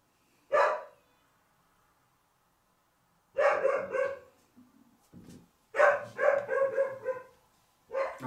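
A dog barking outdoors in separate bursts, a single loud bark, then after a pause several rapid rough barks in clusters, with faint scuffing between, fairly close and not covered by any talking.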